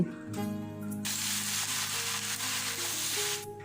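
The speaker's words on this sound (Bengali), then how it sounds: "তেল হালকা গরম হলে এখানে আমি 1 কাপ পেঁয়াজ কুচি অ্যাড করছি।" Chopped onions, a cup's worth, hit warm oil in a pan for a chicken curry, bursting into a loud, steady sizzle that holds strong and continuous after a brief quieter start.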